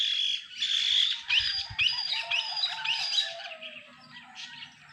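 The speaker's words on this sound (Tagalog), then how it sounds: "Ang daming ibon." Many birds chirp and tweet at once in a rural countryside setting, a dense, steady chorus of high, bright calls with a few squawks, moderately close and continuous with no talking.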